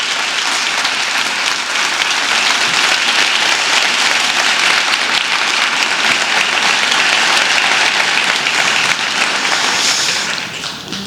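Sustained applause from a large audience at a lecture on the mathematical correlation between the Shroud of Turin and the Sudarium of Oviedo, dense and steady for about ten seconds before tapering off at the end.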